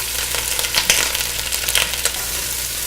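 Shrimp shells sauté in a hot pan for a seafood stock base, giving a steady close sizzle with light scraping and stirring clicks throughout.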